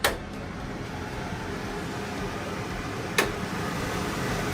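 An Ancona 30-inch, 400 CFM range hood fan running on the lowest of its three speeds gives a steady, even whoosh of airflow with a single sharp click partway through.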